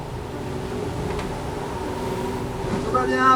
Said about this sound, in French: Le bateau siffle, un bruit de dingue.